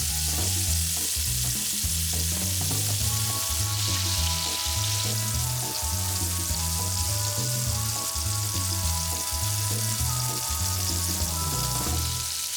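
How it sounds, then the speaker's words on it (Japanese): Vegetables shallow-fried in a little oil in a pan for a bento sauce: a steady, close, crackling sizzle with no break, under a light melodic music bed. "お弁当なのでタレ用の野菜もさっと揚げ焼きにします"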